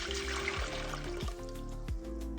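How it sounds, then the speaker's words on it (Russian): Water glugs out of a glass jar into a pot in a few gurgling surges, with a steady trickling pour underneath; quiet and close by. "Эту воду выливаю в кастрюлю."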